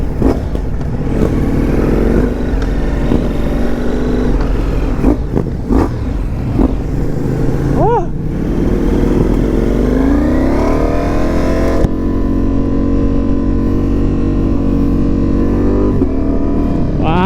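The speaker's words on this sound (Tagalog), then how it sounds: "Ito yung gusto ko talaga sa Ducati. Sobrang ang sarap pitikin." A Ducati Multistrada V4S motorcycle engine revs loudly and close during a ride, its pitch climbing and falling through repeated throttle blips and gear changes, with steady wind and road noise underneath.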